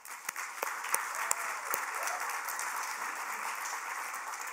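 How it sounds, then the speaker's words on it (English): Audience at a library event in Rancho Mirage breaks into applause, beginning with a few sharp individual claps that quickly blend into a steady, full wash of clapping that holds to the end. "deserved round of applause."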